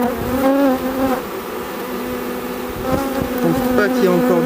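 Honeybees in a queenless hive from a formerly aggressive swarm drone in a loud, close, unbroken buzz, with individual wingbeats rising and falling over the steady hum.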